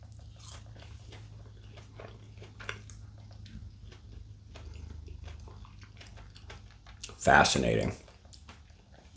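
Biting into a sugar-crystal coated mango passion fruit candy gives a short, loud crunchy burst near the mic, preceded by softer chewing and mouth clicks, with a person speaking briefly.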